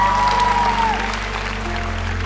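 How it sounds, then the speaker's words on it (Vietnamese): Studio audience on a Vietnamese televised quiz show applauds steadily, a dense wash of clapping over a low music bed, fairly loud throughout. "cho chị một tràng vỗ tay thật nồng nhiệt thưa quý vị"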